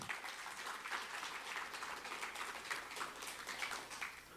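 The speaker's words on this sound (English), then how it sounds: "If everybody wouldn't mind helping me give her a round of applause." Audience applause at a TEDx Blinn College event, honoring the program coordinator: continuous, even clapping from a crowd, fairly faint and distant, sustained throughout with no talk over it.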